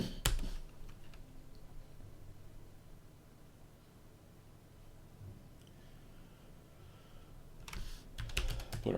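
Quiet key taps are typed on a computer keyboard to enter a password, with short bursts of clicks at the start and end and faint steady hiss between them.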